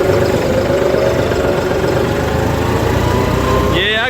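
A John Deere 5310 GearPro four-wheel-drive tractor engine runs steadily and loudly up close while driving on a road in third gear, a continuous diesel drone throughout.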